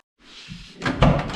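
A 1970 Monte Carlo door with freshly fitted weather stripping swings shut with a brief rush of air and then a solid, close thud.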